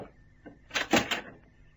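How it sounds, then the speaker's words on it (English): A door to a prison yard swings open in a single brief, muffled movement, a soft creaking swell that rises and fades within about a second against a quiet background. "The door to the yard opened."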